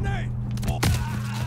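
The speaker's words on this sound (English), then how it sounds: "Incoming grenade!" A grenade bursts in a video game as a single sharp, loud blast with a brief rumbling tail, following a short moment of voice chat.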